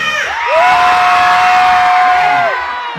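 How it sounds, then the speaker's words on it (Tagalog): Festival crowd at a comedy stage show cheering and shouting loudly together, a single sustained collective yell rising and falling over about three seconds, close and energetic. "Magpalakpakan po na may kasamang sigawan na nagsasabing pangit si Tekla"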